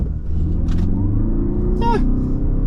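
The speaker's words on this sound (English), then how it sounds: "I got a quick chance to use that hybrid to do a quick acceleration test" A 2024 Toyota Grand Highlander hybrid pulling away from a complete stop, a steady low engine rumble and road drone building throughout, with brief chirps over it and no one speaking.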